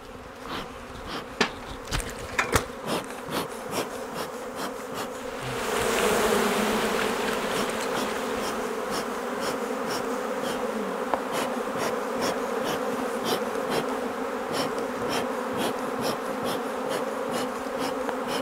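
A honeybee swarm buzzes around a hive box, with smoke being used on it; the dense, steady hum grows louder and fuller about five seconds in and carries on unbroken with no talking.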